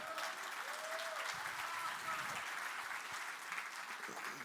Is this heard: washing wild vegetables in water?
no